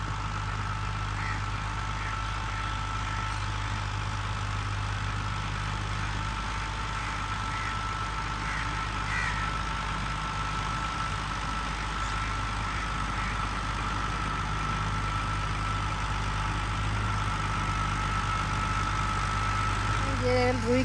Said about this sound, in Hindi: चौधरी बाबर ने ट्रैक्टर चलाई हुई है, रोटीवेटर चला रहा है